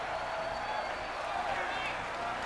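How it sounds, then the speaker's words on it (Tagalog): Boxing arena crowd roaring after Manny Pacquiao's fourth-round knockout win, a dense, steady wall of cheering and applause with no break, apparently under faint commentary. "And listen to that crowd, Kinito."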